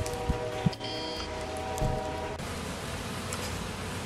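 Honey bees buzz around their hives on a warm early-March day, a soft continuous hum with a few brief closer fly-bys and light rustling.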